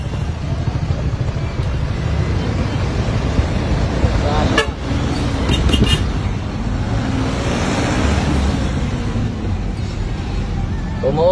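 A truck horn honks on a busy road amid loud traffic rumble, a short burst of horn blasts in the middle of steady engine and road noise, with talking in the background.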